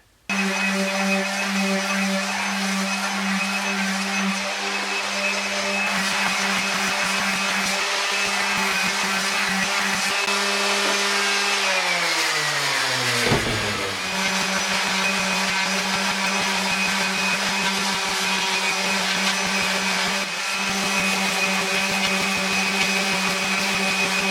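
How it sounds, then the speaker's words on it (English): A power sander whirs steadily against 12-inch drum shells during shop sanding, a loud, continuous motor whine that briefly drops in pitch and recovers midway, with faint scratchy texture and no speech. "brought home the 4 12-inch drums, gonna sand them inside, outside"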